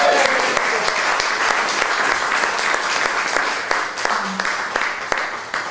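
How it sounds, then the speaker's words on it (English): An audience at a poetry reading in a multicultural center applauds warmly, a full, even roll of clapping that holds steady and eases slightly toward the end. "so round of applause for Phil"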